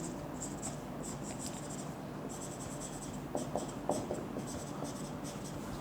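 Pen writing out a physics question on resistance of a copper wire, with continuous close scratching strokes and short pauses between words, heard alone.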